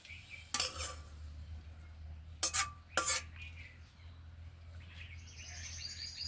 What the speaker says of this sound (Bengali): এইভাবে একটু নেড়ে চেড়ে মিশিয়ে নিলেই হয়ে যাবে